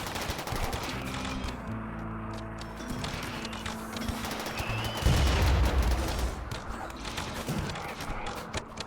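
Colonists trade gunfire in RimWorld, a busy spread of rapid shots and bursts over a layered game soundtrack, with one heavier thump midway through.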